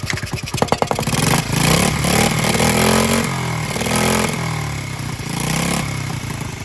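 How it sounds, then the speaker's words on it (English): A Honda Z50R minibike engine, mid-restoration, kicks over in a few quick pulses, then catches and runs loud and close. It revs up and down with a rattly, buzzing idle. "I'm gonna start it again and run the fuel out of the carb so it doesn't drip."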